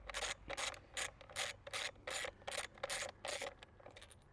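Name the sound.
removing a bolt with a ratchet on a Honda BF50 outboard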